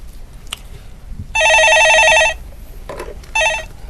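A telephone rings for a radio stock-market call-in show: two loud, close, trilling rings, the first long and the second short, separated by a pause with faint background noise.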